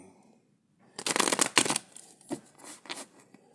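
A deck of playing cards riffled and shuffled in a few quick bursts, close up, with brief pauses between them and no talking.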